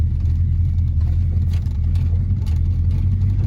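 A 1986 Chevy C10 step side truck engine runs at a steady idle, a constant low rumble close by with no talking.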